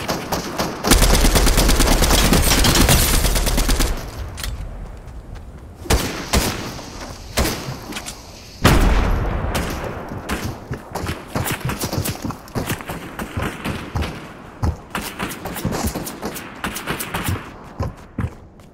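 Shotgun and other gunfire in a Fortnite match: loud, dense volleys, then a long run of rapid, uneven shots and thuds, close and continuous throughout.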